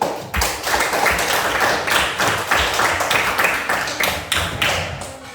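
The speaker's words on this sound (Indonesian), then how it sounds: "Ya, tepuk tangan dulu." A class of students claps hands together in a classroom. The claps come as a steady, fairly loud run of sharp, close slaps that carry on for about five seconds.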